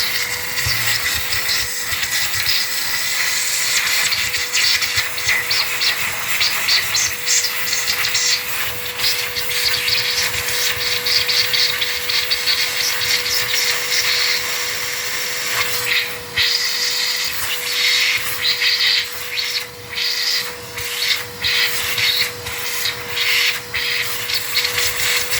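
A shop vacuum sucks drilled dust and debris from holes in a tile floor during a toilet flange install, a loud, constant whooshing roar with a steady hum that runs the whole time.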